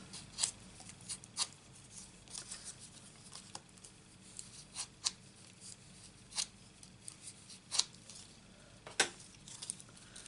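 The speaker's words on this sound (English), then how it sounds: "And now I get my bone folder and fold them under." Scattered sharp scrapes and taps of a bone folder creasing paper butterfly wings for a stamped card, close and crisp over a quiet background, with no voices.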